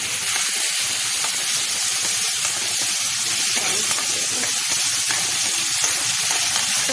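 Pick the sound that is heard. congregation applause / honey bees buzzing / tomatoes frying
tomatoes frying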